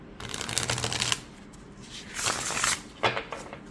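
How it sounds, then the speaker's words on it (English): An oracle-size card deck, slightly larger than standard, is shuffled up close in quick riffling bursts, one long flurry followed by two shorter ones, crisp papery flutters with no talking. "let's see how this deck shuffles"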